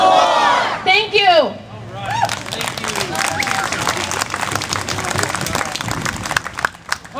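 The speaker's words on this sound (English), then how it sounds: "how about another round of applause for our Secretary of State?" Crowd at a Montana rally bursts into loud applause and cheering after a short shouted line, clapping and whoops filling the space continuously for several seconds.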